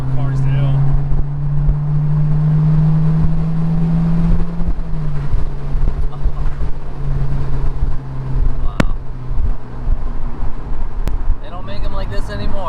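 A 2000 Honda S2000 drives along with a loud, steady engine drone that shifts pitch partway through, joined by road noise and a brief thump or two, while people talk inside the car.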